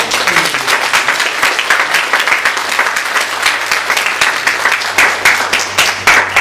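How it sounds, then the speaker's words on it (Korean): A church congregation applauds together in a welcome, steady dense clapping filling the room throughout, with a low hum underneath. "우리 다 같이 박수로."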